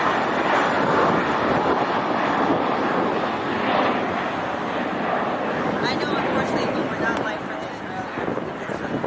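A JetBlue airliner's jet engines roar loudly and steadily at an airport, a broad continuous rumble with wind buffeting the microphone that eases slightly toward the end.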